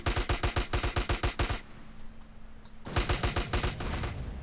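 Rapid automatic gunfire from GTA San Andreas rattles off in two close, loud bursts of evenly spaced shots, with a short lull between them.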